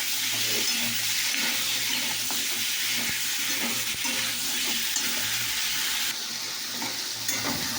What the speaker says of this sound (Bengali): এটাকে একটু ভালো মাখতে হবে